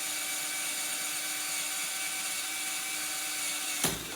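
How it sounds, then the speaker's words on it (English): A drill runs steadily while boring into an organ pipe roller in a workshop, a continuous whirring hum that cuts off abruptly near the end. "And drill, baby, drill."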